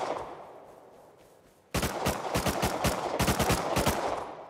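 Rapid bursts of gunfire from players in the survival game Rust erupt suddenly after a quiet stretch, loud, sharp shots in quick uneven volleys, with one brief word spoken.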